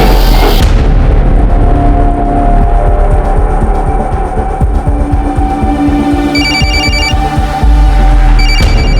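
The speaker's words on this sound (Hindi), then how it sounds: "किसका फोन है?" A phone rings in short repeated electronic trills, heard twice near the end under a loud, dense dramatic music and sound-effect bed with heavy booms.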